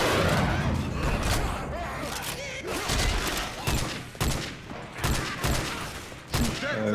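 Dense gunfire in Left 4 Dead 2, loud and continuous for the whole stretch, with sharp repeated shot bursts over a busy game-noise bed.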